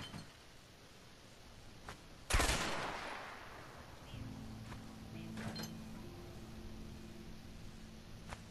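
In the video game A Way Out, a single loud gunshot rings out and decays, followed by a few fainter shots over a low ambient hum and a quiet background tone.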